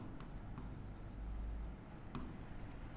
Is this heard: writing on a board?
yes